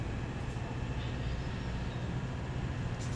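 Steady low rumble of a train in Farming Simulator 17, a constant mechanical drone at even loudness with no voices.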